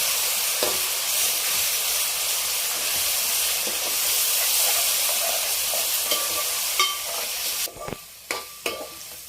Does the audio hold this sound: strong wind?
no